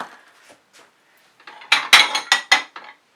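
A scrape dish for fluid acrylic painting is handled, giving a short run of five or six sharp clinks and knocks, loud and close, with no talking.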